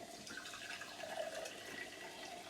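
Lemonade being poured out of a container, a steady close liquid splash and trickle with a faint fizzing hiss, continuous and even throughout with no talk.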